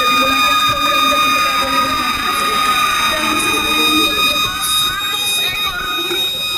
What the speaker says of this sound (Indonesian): dengan penekanan tombol sirine sebagai tanda dimulainya program